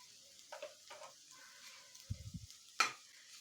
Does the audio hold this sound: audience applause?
no